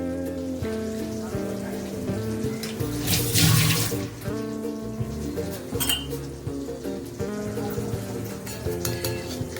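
Soft paneer pieces lifted one by one out of warm water, with splashing and dripping water and occasional clinks of dishes, close, under a continuous background of music.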